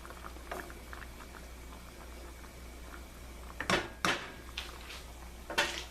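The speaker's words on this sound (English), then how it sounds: "Since it started to boil" A braise of chicken thighs, mushrooms, sausage and cream bubbles in a pot, a low, soft simmer with gentle popping, broken by a few sharp nearby clatters of cookware.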